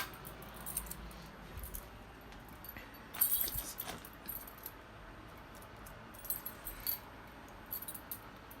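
A set of keys jangles while someone resets a fire alarm pull station and control panel during a system test, with brief metallic clinking bursts spread across a quiet room tone.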